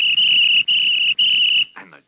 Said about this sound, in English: The king blew his whistle